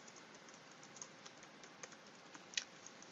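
Soft, scattered computer keyboard key taps, faint and close, land irregularly over a steady hiss as an entry is typed into a bulleted list in a word processor.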